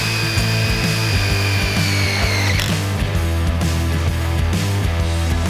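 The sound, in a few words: power drill driving screws into gate hinges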